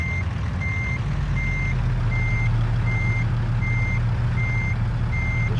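A semi truck reversing in American Truck Simulator, with steady evenly spaced backup beeps over a loud low diesel engine drone that rises slightly in pitch; no voices.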